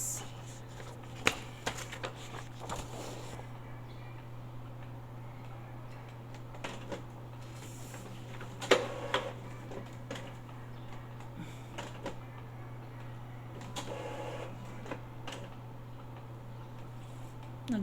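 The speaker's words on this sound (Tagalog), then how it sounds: "Nagluloko pa ang printer ko." Irregular mechanical clicks and ticks from a malfunctioning printer in an office, with a few sharper knocks over a steady low electrical hum.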